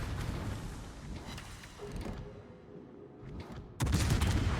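Booming naval gunfire from warships in World of Warships, including a Tier 10 Des Moines cruiser, rolls in dense overlapping salvos with a harder, louder volley breaking out near the end.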